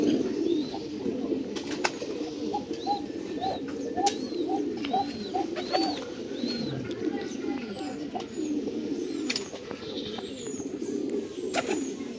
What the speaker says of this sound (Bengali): বিদেশি কবুতরের বাচ্চা এটা